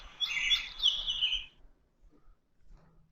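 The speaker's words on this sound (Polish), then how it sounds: "O, odgłosy przyrody." Bright, high chirping birdsong from a children's sound book plays for about a second and a half, then stops abruptly, leaving near silence with faint background noise.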